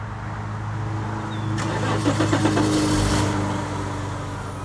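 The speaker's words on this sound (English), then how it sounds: "So how about we go for a nice little drive through the Cannock Chase" A Jaguar XJ40 classic car starts up: a low idle hum, then the starter cranks in a quick run of rhythmic pulses before the engine catches and settles into a steady idle, heard close with no talk.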